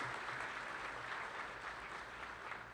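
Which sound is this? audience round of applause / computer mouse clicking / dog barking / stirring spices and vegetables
audience round of applause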